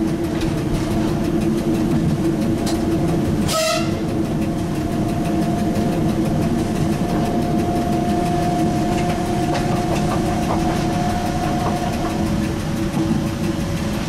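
A Z 5300 electric train running between Paris and Rambouillet, heard from inside the driver's cab: a loud, steady mechanical drone with a low hum, one sharp broadband clunk partway through, and a faint whine rising later.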